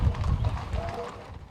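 Hooves of a well-broke Western horse on a horse drive clop in a brief, muffled burst, close but fairly quiet, fading out within a second and a half.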